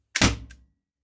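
A single sharp, short shot from a rubber-ball revolver with a hollow thump, close and loud, followed by a faint mechanical click before silence.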